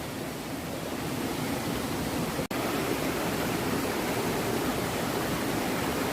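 A river flows in a steady broadband rush, close and constant, with a brief cut midway and no voices.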